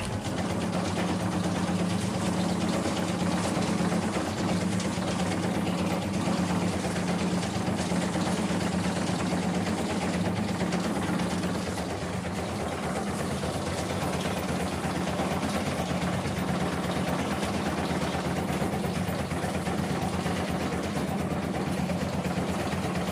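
An electric recycling crusher runs steadily at close range for the whole stretch, a constant loud mechanical drone with a low hum and dense rattling vibration, no pauses or talk.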